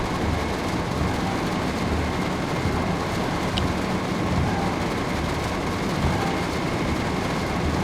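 Steady rain falls in Train Sim World 5 around Brighton as a train runs, giving a continuous, loud, dense hiss with no talk over it.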